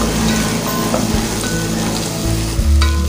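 Sliced onions sautéing in a pan for a mutton kola urundai curry, a steady close sizzle with faint scraping and a brief bump of stirring near the end, no voices.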